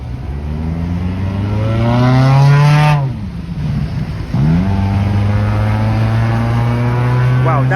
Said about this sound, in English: Wow, that black Honda that just passed by.